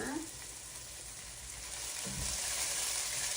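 Chicken thighs sizzling in a pan on the stove, a steady close frying hiss with a few scattered pops that grows louder toward the end.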